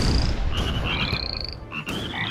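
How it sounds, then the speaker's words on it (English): Cartoonish frog croaks from the artillery video game Shell Shock Live, a string of bright, bubbly warbling croaks running continuously over the game's low, busy background noise. "Oh god, we got frogs."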